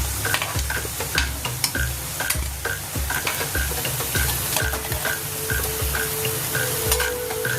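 Potato pakoras sizzling in hot oil at a home stove, a steady close fry with repeated stirring and scraping clinks of a utensil against the pan throughout.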